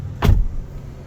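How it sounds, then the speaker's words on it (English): Power sliding door on a car opening, a short motorized whir and clunk that rises sharply and then trails off into a low hum, close and loud with no talk. "See, now when I hit lock, I open up this door."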